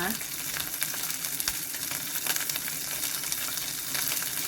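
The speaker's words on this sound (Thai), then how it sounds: "ยายก็จะคั่วพริกแกงนะคะ" Thai red curry paste dry-roasting in a pan for spicy stir-fried catfish, giving a steady close crackling sizzle with scattered sharp pops and a few scraping stirs, no talking.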